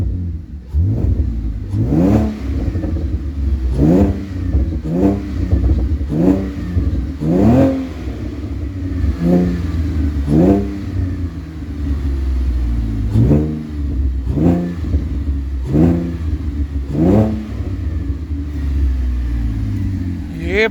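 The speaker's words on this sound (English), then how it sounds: "I'll give you a quick rev before I go" A Holden VE SV6 engine revs repeatedly, about ten sharp throttle blips rising and falling over a steady idle rumble, loud and close with no talking.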